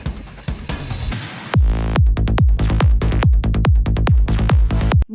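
A psytrance track, opening on a dense, washy synth build before a loud, pounding four-on-the-floor kick with a rolling bassline drives steadily through the rest of the excerpt.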